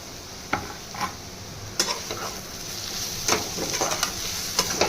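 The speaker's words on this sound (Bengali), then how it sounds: "চিনি দিয়ে আর একটুখানি কষে নেব।" A spice mix for potol dorma fries and is stirred in a pan with sugar added, giving a steady close sizzle broken by scattered scrapes and clacks of the spoon against the pan, with no talking.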